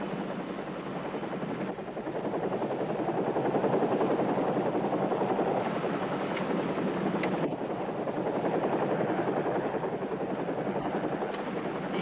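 A pink-painted helicopter hovers close and loud with a steady, throbbing rotor chop that holds for the whole stretch, swelling slightly mid-way, with no voices over it.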